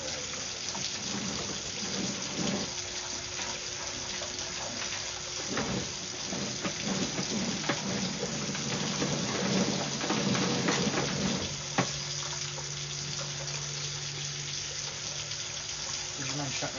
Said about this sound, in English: They're just sloshing around in the drain line.